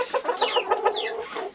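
Several hens cluck and squawk close by in quick, overlapping calls, with a few drawn-out rising notes.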